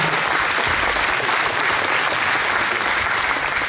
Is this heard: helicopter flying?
no